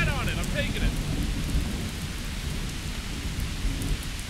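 Heavy rain and rolling thunder in the video game Miscreated, a constant dense downpour with low rumbling thunder running underneath throughout, with no voices.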